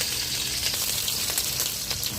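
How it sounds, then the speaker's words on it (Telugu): Green chilies dropped into hot oil for a black-eyed pea snack, a loud, close, continuous crackling sizzle with a few sharper pops and no voices. "పచ్చిమిరపకాయలు వేసుకుందాము."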